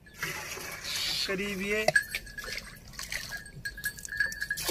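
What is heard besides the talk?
water being poured into a 10-litre sprayer tank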